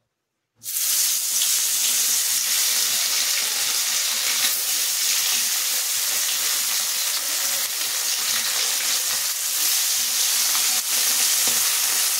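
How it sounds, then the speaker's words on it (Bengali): Black cumin seeds and bay leaves hit hot oil in a kadai and set off a loud, continuous close-up sizzle that starts abruptly and keeps a steady crackling hiss throughout. "তো কালো জিরে আর তেজপাতা ফোড়ন দিয়ে দিলাম"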